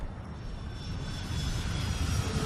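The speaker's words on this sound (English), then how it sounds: "Just Emirates 380 is just going up over there." An Emirates Airbus A380 climbs away from Heathrow, its jet engines giving a steady, broad roar that swells slightly as it goes, with no talk over it.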